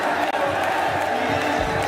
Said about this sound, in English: The crowd erupting, begging for the ace.